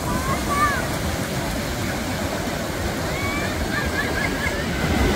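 Steady roaring wash of waves surging onto Calangute Beach, Goa, continuous and loud, with faint whistling or bird-like calls drifting above it.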